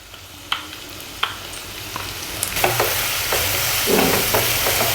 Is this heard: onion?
yes